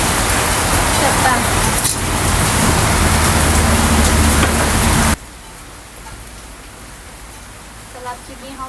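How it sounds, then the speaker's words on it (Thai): Heavy storm rain pours down steadily as a dense, loud hiss for about five seconds, then cuts off abruptly to a much quieter background with faint patter. "ตอนนี้กะฝนตกมาแล้วฟ้าลมมาแล้ว"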